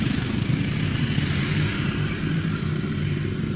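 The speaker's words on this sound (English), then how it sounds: "as the tractor moves from right to left across the scene, the engine sound follows along" A tractor engine rumbles loud and steady, a dense low drone with broad noise that holds at constant strength as the machine crosses from right to left.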